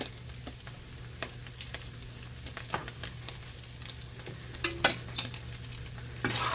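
Chili with taco seasoning is stirred in a hot pot, a low sizzle under irregular scraping and clinking of the spoon against the pot, close and unaccompanied by speech, with a burst of louder sizzling at the end.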